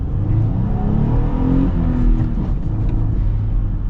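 A Jeep Gladiator Rubicon manual pickup truck accelerates, its engine note rising through the revs as a loud, close rumble, heard from inside the cab with no one speaking.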